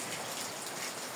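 Rain falls steadily outdoors at a car-painting spot with no booth, a continuous broadband hiss with no voices.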